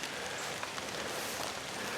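Rain falling steadily on grass and leaves in woodland, a dense even hiss of drops with no other sounds.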